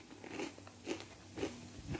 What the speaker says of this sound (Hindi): देखिए आपको आवाज़ से ही पता चल रहा होगा ये बिल्कुल क्रंची बनी है।